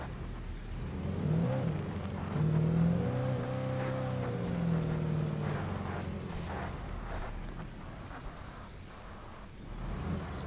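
A car engine hums and revs steadily with a whirring drone in the video game Alan Wake Remastered, rising slightly in pitch mid-way, with faint clunks and rattles around it.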